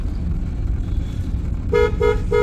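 A car horn honks three times in quick succession over the steady rumble of a running engine.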